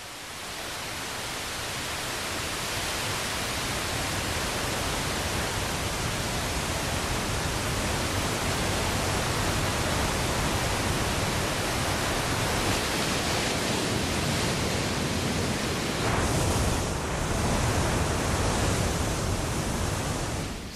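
A waterfall pours into rocky freshwater pools, giving off a dense, steady roar that holds loud and unbroken throughout.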